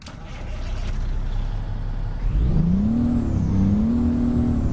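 A Kenworth W900 truck's Cummins diesel engine in American Truck Simulator cranks and catches, then settles into a loud, steady idle with a rising and falling drone, close up and alone.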